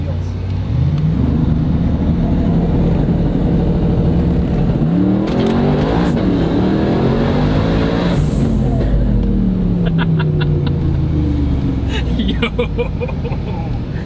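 A powerful twin-turbo 1600 hp Jeep Trackhawk engine revs hard and accelerates with a rising roar, loud and close, with brief wind noise and muffled voices underneath.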